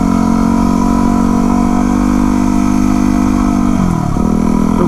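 A Yamaha WR250R supermoto motorcycle rides the twisty Calaveras Road, its engine holding a steady, loud mid-pitched drone close by before a quick shift in revs near the end.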